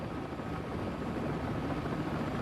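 Steady helicopter engine and rotor drone in a flight simulator game with the collective lowered, a broad continuous rumble holding even and fairly loud throughout with no talk.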